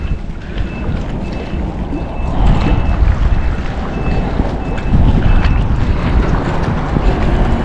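Strong wind gusts roar over open water during a fishing trip, a loud, steady rushing blast buffeting the microphone and swelling louder midway, with faint periodic beeps in the background.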